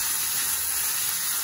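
Onion and green chili sizzling in hot oil, a continuous bright hiss and crackle, close and steady throughout with no talk.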